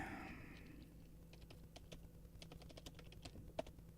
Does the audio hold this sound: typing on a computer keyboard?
yes